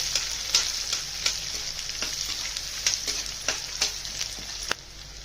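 Coarsely chopped onion sizzles in a pan for cucumber poha, a steady close frying hiss punctuated by repeated scraping stirs at an irregular pace, ending with a sudden drop to quiet.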